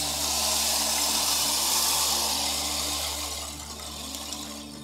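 A rain-imitating percussion instrument makes a steady hissing wash like rain or rushing water, continuous and fairly loud, easing off slightly toward the end with no talking.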